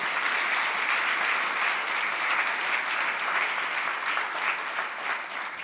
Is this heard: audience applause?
yes